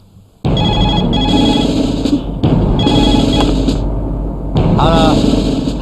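A telephone rings after redial is pressed in a Telugu comedy scene, loud electronic ring bursts in repeated spaced pulses over a constant hum, with a brief warbling tone near the end.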